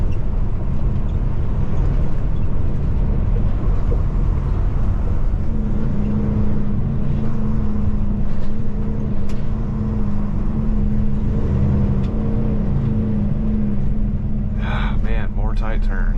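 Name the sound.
Peterbilt flatbed truck driving and turning downtown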